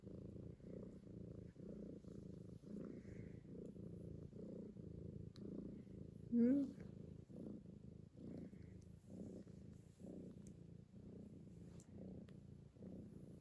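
A cat purrs steadily and softly close by in an indoor room, a continuous low rhythmic rumble with one brief bump of noise partway through.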